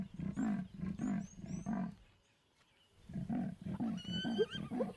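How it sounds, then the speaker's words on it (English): A male lion calls with a low, rasping roar, a series of about four throaty pulses, a pause, then more pulses, fairly close in the open bush with faint bird chirps behind. "He calls her, hoping that she hasn't gone far."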